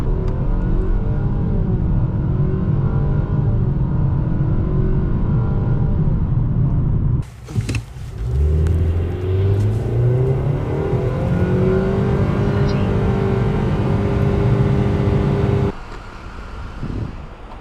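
A 2026 Nissan Sentra SR accelerates hard while passing, its engine rising in a steady drone heard from inside the cabin, with a gear change and climbing revs partway through.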